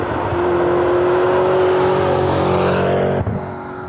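A McLaren MP4-12C sports car drives past close and loud, its engine holding a steady, strong drone with a brief drop in pitch near the end.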